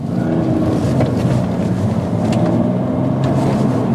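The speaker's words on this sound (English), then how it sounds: "It's such a powerhouse, this engine." BMW 330d diesel engine pulling steadily while driving, a continuous low droning rumble heard from inside the car with some wind and road noise, no voices.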